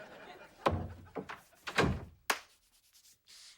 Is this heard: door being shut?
yes